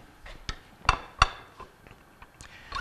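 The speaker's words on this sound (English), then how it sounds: "we'll clamp it in place" Metal clunks and clinks as a Bell & Gossett Series 1510 pump bearing assembly shaft is clamped into a vise, a few sharp knocks spaced irregularly, close and fairly loud, with no talking.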